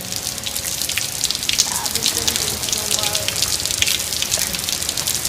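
Rain pours down outdoors on someone showering in the open, making a loud, steady hiss of drops splattering on surfaces with scattered sharper drips throughout.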